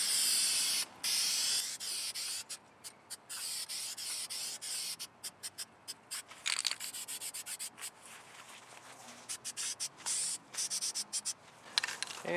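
Spray can hissing paint onto an engine cylinder head in short repeated bursts, with brief gaps between passes and a steady close hiss and no talk.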